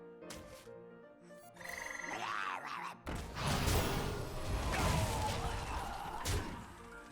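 In the Hearthstone card game, a toad card is played and gives a croak amid digital game effects, followed by a louder burst of crashing, smashing effect sounds.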